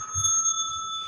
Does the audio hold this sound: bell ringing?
yes